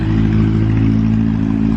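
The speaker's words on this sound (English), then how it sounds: "I don't know if you can hear me over the motorcycle that just went by." A loud, steady motor roar of a passing motorcycle fills the whole stretch, close and constant with a low rumbling drone.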